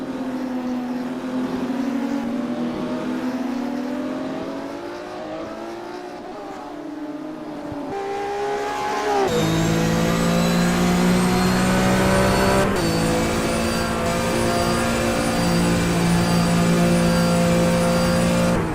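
A classic Porsche race car engine in a racing simulator drones and revs steadily, pitch rising and falling through gear changes, then a louder, brighter harmonic engine note holds for the second half, close and constant.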